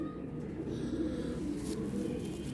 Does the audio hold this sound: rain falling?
no